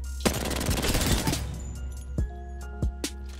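An R99 or R301 in Apex Legends shreds a training dummy with a fast, close burst of automatic fire, then a few isolated shots follow with brief pauses.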